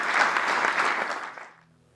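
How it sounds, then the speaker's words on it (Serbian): Audience applause at a poetry and music festival in Niš, a dense burst of clapping that holds steady for over a second, then thins and fades to quiet. "veliki aplauz."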